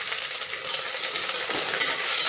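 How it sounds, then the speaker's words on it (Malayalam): Onions for biryani fry in a pan with a bright, continuous hiss and crackle, close and fairly loud throughout. "ഇനി നമുക്ക് കുറച്ച് സവാള സവാളയൊക്കെ ചേർത്ത് കൊടുത്തിരിക്കുകയാണ്"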